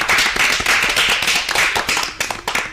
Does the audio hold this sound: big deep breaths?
no